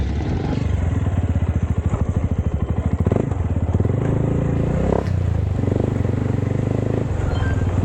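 Motorcycle riding toward Talon Falls and Quarry 7, a close engine throbbing in a fast steady pulse, with clattering thumps and shifts in revs as the bike bounces along a rough road.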